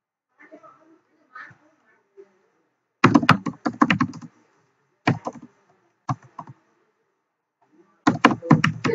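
Bursts of fast keystrokes on a computer keyboard come in several clusters, close and fairly loud, with a person talking quietly in between.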